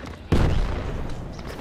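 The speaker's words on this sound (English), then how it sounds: "Gunfire, huh?" A single loud, close gunshot in a jungle video game cracks out sharply, then rolls into a long booming tail that slowly decays, with no speech over it.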